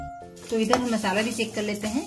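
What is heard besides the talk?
masala spices sizzling while roasting in a pan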